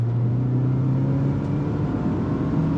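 A DFSK Glory i-Auto engine drones steadily at high revs climbing a mountain road, a constant close mid-pitched hum with no clear gear break heard.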